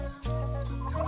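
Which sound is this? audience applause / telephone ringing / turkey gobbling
turkey gobbling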